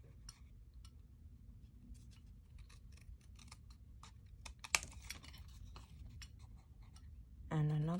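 Scissors cut a V notch into paper for a gingerbread house pop-up card, with a run of quiet, close, crisp snips and a brief louder crunch near the middle.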